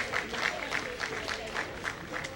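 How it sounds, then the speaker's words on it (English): A gathering at a coming-of-age initiation rites-of-passage ceremony gives a round of applause, heard as fairly faint, steady clapping from a small crowd at some distance. "So give yourselves a round of applause for being here and supporting this."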